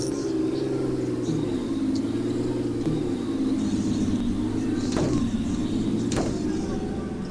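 A car's engine drones in a video game, a steady humming rumble that rises and dips in pitch, with a couple of sharp clicks along the way.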